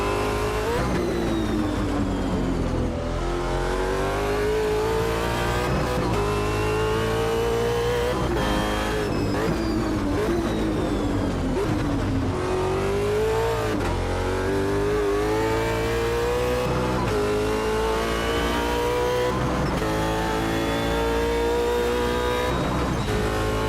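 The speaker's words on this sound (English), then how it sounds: "How's the engine noise on the live stream?" Race car engine roaring in a sim racing video game, loud and continuous for the whole stretch, with the pitch rising and dropping as it revs and shifts, no voices.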